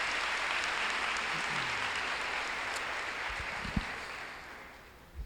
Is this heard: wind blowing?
no